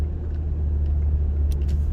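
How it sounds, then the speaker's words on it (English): Steady road traffic rumble with a constant low drone of passing cars, heard from inside a BMW M3 Competition, with a few faint higher hisses toward the end. "Why is there so much traffic over here?"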